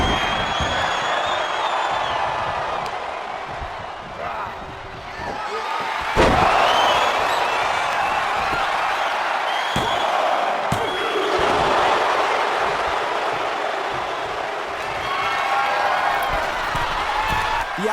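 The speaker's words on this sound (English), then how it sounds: "The crowd is on the edge of their seats, cheering on both men as they battle for supremacy." Arena crowd noise from a WWE 2K24 video game wrestling match: a continuous roar of cheering and clapping throughout, punctuated by occasional sharp slams.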